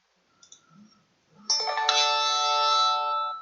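A phone ringtone goes off indoors, a loud, bright repeating electronic melody that starts abruptly after a few faint rustles and keeps ringing steadily to the end, with no one speaking.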